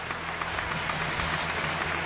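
A television studio audience claps to welcome the expert panel on a Chinese antiques appraisal show, a dense, steady wash of applause filling the short stretch at even loudness.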